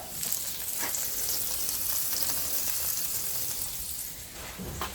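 Smash burgers sizzle steadily on a gas-fired Blackstone griddle, a continuous loud bright hiss of frying with a few scraping pops, alone with no talk.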